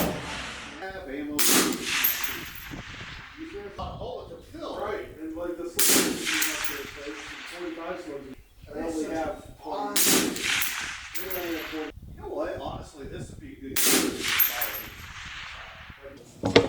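A suppressed Seekins 6 ARC DMR rifle with a CAT VB6 suppressor fires in four sharp, separated bursts, each shot a muted crack followed by brief decay, with someone talking between the shots.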